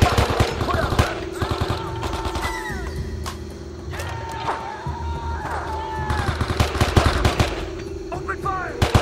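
Rapid bursts of rifle and machine-gun fire in a Vietnam War jungle ambush in the video game Men of Valor, loud overlapping shots with shouting voices mixed through the battle.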